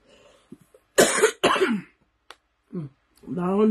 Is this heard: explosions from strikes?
no